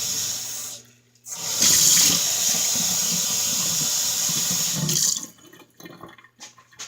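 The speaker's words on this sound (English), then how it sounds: "I am going to add a cup of water to this." Water gushes from a tap with a steady hissing splash, running for a few seconds before being shut off, with faint clinks afterward.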